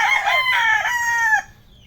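A rooster crows once, a loud, close, drawn-out call lasting about a second and a half, with fainter fowl sounds beneath it before it cuts off.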